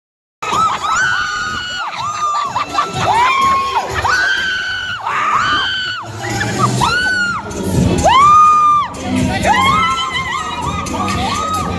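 A crowd shouting and cheering inside a Queen of Battle pageant venue in Singapore, with loud, rising whoops and screams surging in waves that swell and peak together.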